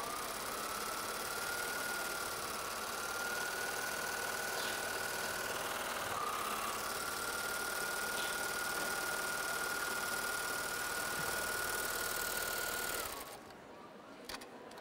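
A Babylock sewing machine sews a dense satin stitch with thick corded thread, a steady, fairly quiet mechanical whir and hum running continuously for about thirteen seconds before stopping.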